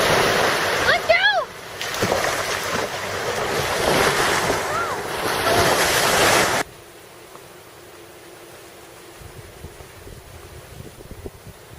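Loud broadband rush of ocean surf and wind on a warm Baja California beach, with wind buffeting the microphone and faint bird calls, cutting abruptly to a much quieter steady wash of waves.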